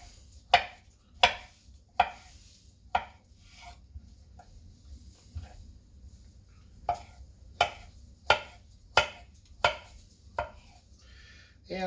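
A knife slices through ripe avocados on a board for a Latin stew, making about a dozen crisp close cuts in two bursts with a pause between, and no talking.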